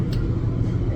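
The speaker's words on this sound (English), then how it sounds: "You can hear the washing machine in the background" A washing machine runs in the background of a cottage home, giving a steady, low, continuous rumble with no distinct beats and no speech over it.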